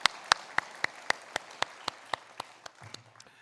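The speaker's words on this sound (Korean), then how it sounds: "우리 하나님께 영광의 박수 올리겠습니다." Church congregation applauding at a Sunday worship service, with evenly spaced, sharp, rhythmic claps that fade slightly toward the end, with a brief low murmur at the close.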